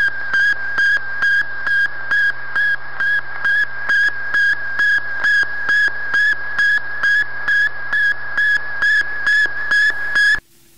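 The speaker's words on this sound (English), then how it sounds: "That's the sound of the very first human radio transmission from a man-made moon" Radio transmission from the Sputnik 1 satellite, the first man-made moon: a loud, even train of about twenty whistling beeps, roughly two per second, over a low hum, cutting off abruptly.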